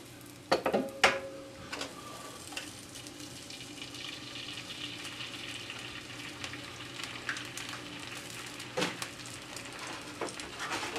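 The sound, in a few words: mushrooms and hash brown potatoes frying in pan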